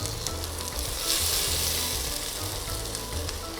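Potatoes frying in a wide pan for onion fried potatoes give a steady, close, dense sizzle that crackles on without a break and with no voices.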